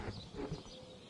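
Birds call from the trees in a video game, faint soft cooing and chirping under a low ambient wash.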